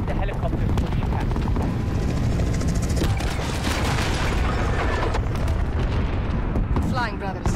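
A dense, roaring wash of helicopter engine and rotor noise with booming impacts and battle clatter in a Call of Duty: Modern Warfare battle, loud and continuous, while voices talk over it.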